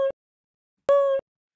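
Two short reversed vocal blips, a steady sung tone that cuts off abruptly, the second longer than the first, isolated in silence.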